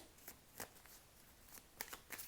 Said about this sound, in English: I'm shuffling while I'm doing this because this reading I chose to shuffle on camera